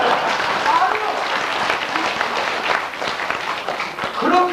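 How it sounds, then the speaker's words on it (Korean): Audience applause at a Korean lecture on elderly rights, sustained close clapping filling the clip, with scattered voices and a brief vocal sound near the end. "그거 박수 좀 한번 쳐봐요."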